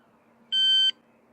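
A single steady electronic beep from a kitchen scale weighing allotment potatoes, lasting under half a second above a quiet background hum.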